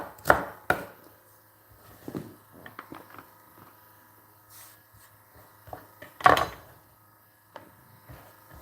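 A knife chops carrots on a cutting board in a home kitchen, with sparse, crisp knocks spaced irregularly and a few louder strikes, against a quiet background.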